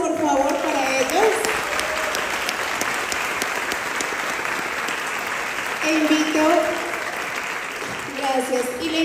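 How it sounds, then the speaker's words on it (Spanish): Audience applause at a dance festival in a university theater, sustained clapping throughout with voices calling out and cheering over it at the start and again near the end. "Un aplauso por favor para ellos."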